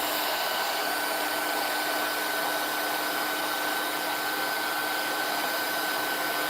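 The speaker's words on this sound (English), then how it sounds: "bring back in the heat tool." A craft heat tool blows hot air at embossing powder on a birthday tag with a loud, constant whirring roar and a faint high whine, running unbroken and close throughout.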